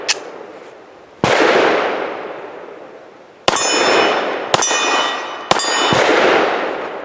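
Four loud gunshots from a Tisas Regent BR9 pistol firing Remington 147 grain HTP subsonic rounds, each a sharp crack with a long ringing echo, the later shots joined by clanging metallic hits on steel targets, spaced unevenly outdoors.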